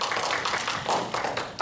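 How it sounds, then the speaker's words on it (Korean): Live audience at a Korean public broadcast show applauds in encouragement, a dense steady patter of many hands clapping close by with no talking. "격려의 박수 부탁드립니다."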